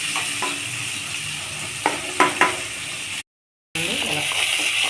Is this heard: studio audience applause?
no